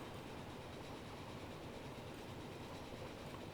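A train rolls along in the railway simulation game Transport Fever 2, a steady broadband rumble and rattle of wheels on track, continuous and fairly loud with no talk over it.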